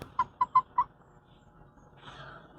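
A newly acquired hen gives four quick, clear clucks in a row, close and alone, followed by a soft rustling.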